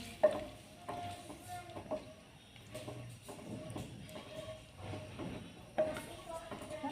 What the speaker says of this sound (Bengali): এরপর আমি সিদ্ধ করা চটপটিগুলো দিয়ে দিচ্ছি। নেড়ে চেড়ে আমি মিশিয়ে নিচ্ছি।